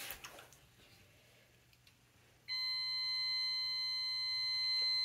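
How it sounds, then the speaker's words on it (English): A kitchen timer goes off partway through with a steady, loud electronic beeping tone that continues to the end, after a quiet stretch of faint ticking and room noise. "What's that timer, you say?"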